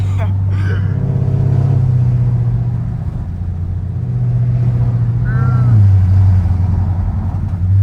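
A Camaro SS V8 fitted with headers rumbles loudly and steadily up close, swelling into revs with deep, sustained engine tone throughout.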